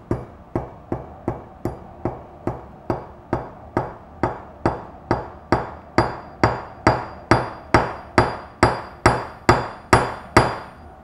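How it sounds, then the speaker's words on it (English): Steady hammer blows on copper over a steel block ring out one after another, about two per second, each strike sharp with a brief metallic ring, growing slightly louder. "I'm going to put it on top of this piece of steel and see if I can actually hammer it out."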